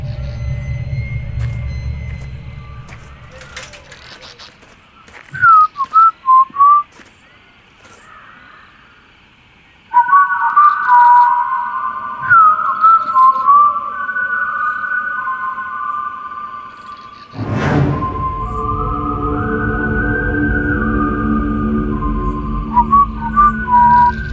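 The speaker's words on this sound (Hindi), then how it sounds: "सीटी कौन बजा रहा है?" A person whistles in several bright, wavering melodic bursts, alone at first and later over a steady low hum and background noise, in a tense indoor horror-drama scene.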